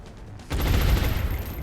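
Gunfire in XCOM's Long War mod opens with a sudden loud burst that continues as a rapid rattling volley, close and dense, after a brief quieter lead-in.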